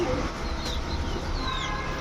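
A female crested pigeon coos softly against steady background noise at a pigeon seller's stall. The calls are low and brief, and nobody speaks.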